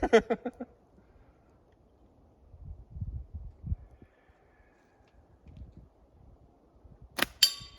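Slingshot shots at a target during an Alabama slingshot tournament outdoors, with a sharp impact crack at the start and another near the end, and quiet thumps and faint movement in between.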